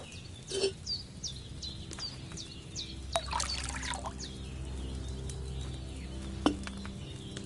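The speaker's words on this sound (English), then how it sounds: "So, what did you pour in there? Wine, of course." Wine pours into a cauldron in the medieval game Kingdom Come: Deliverance, a soft, steady liquid trickle over a low ambient bed with chirping birds in the background and a couple of brief clunks.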